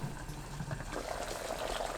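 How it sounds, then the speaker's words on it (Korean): Water simmers with a soft, steady bubbling in a covered pot on the stove, heating for seaweed kalguksu noodle soup; faint and continuous with no talking. "보글보글 끓으면 중불로 줄이고 10분 더 끓여줍니다"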